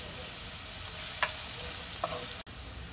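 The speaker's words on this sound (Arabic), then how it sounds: "نجيب المقله تاعي اللي درت لها شويه تاع الزيت، ونجيبو هذاك البصل ونقعد نقلي فيه هذاك البصل تاعي" Onion fries in oil in a pan, making a steady, close hiss of sizzling with a couple of brief louder crackles and one clunk, and no one speaks.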